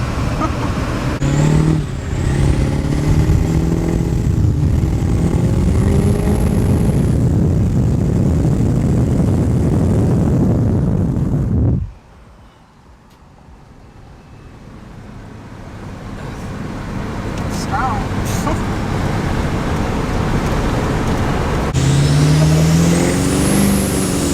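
A built Duramax diesel truck accelerates hard on a test drive, with a loud roaring engine and rising gear sweeps from inside the cab. The roar cuts out abruptly partway through, then builds back up steadily.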